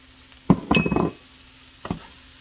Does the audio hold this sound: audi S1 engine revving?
no